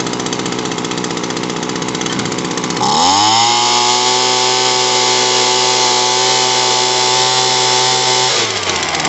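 An Echo PB-200 handheld blower's small two-stroke engine runs loud and close during carburetor adjustment, first idling with a rough, uneven chatter, then revving up to a steady high whine held for several seconds before dropping back.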